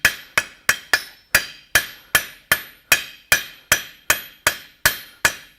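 Steady, evenly spaced cross peen hammer blows ring out on hot steel being forged, about fifteen sharp metallic strikes with a bright ringing decay, close and loud.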